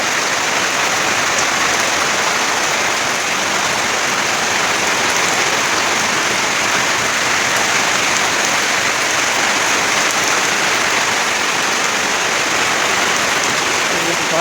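Heavy storm rain pours down around a house, a dense, steady, loud hiss of water that continues without a break for the whole stretch.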